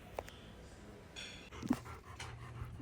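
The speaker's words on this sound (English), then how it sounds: "These are the dogs of the woman running the retreat" Dogs belonging to the woman who runs a retreat in Nosara, with a dog's panting and faint whimpering at close range, broken by a short yip, over low background noise.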